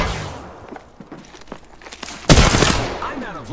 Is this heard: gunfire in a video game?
yes